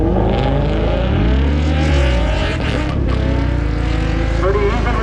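A VR6 car launches hard using launch control at a motorsport event, its loud, close engine droning and rising in pitch throughout, with a voice underneath.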